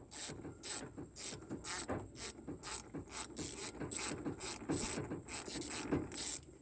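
A clamp being ratcheted tight during radiator work on a 1993 Ford F250 truck, giving a steady run of repeated metallic clicks and rasps up close, with no talking.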